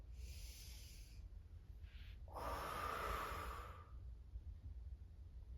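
Slow, audible breaths in and out during a full-body stretch, a long swelling exhale in the middle following a softer inhale, close and clear over a low steady background hum with no talking.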